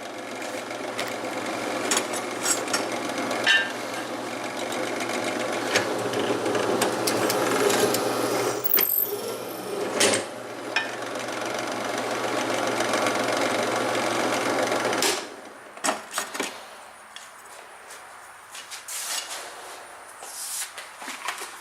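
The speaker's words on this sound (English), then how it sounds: "we got the first hole drilled" Steady whirring drill boring a pin hole through a micarta knife handle, a continuous motor drone for about fifteen seconds that stops abruptly, followed by quieter scattered handling knocks.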